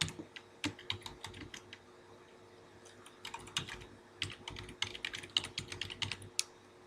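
Computer keyboard keys tapped in quick irregular bursts while a street address is entered, faint and close, with a short lull before a denser run of typing.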